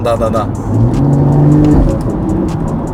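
A BMW M140i with an open carbon air filter gives a loud, close intake roar that swells into a sustained drone as the engine revs, while people talk over it.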